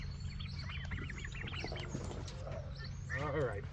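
Young turkeys being moved to pasture in a turkey tractor on a homestead chirp and peep faintly in rapid bursts over a low steady hum, with a voice and a warbling call near the end.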